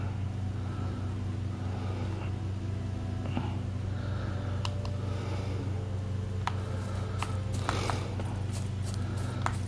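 A horse gallops in The Witcher 3 video game, with a steady rhythmic clip-clop of hooves over a continuous low hum, moderately faint and with a few sharper clicks.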